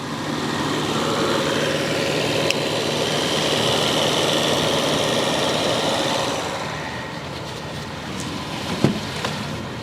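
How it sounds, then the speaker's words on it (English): A BMW engine idles smoothly and steadily at close range, a continuous even hum that quietens slightly toward the end, with a couple of faint clicks. "The engine in this thing is absolutely sweet."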